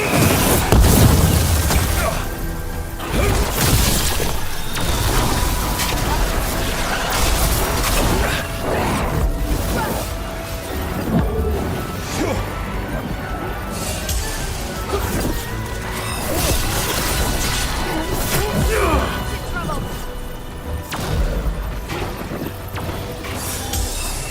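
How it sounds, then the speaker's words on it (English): Gunfire and explosions during combat in Dragon Age: The Veilguard, heard as loud continuous battle noise with booms, crashes and mechanical clatter, plus some speech mixed into the din. "They're firing at us!"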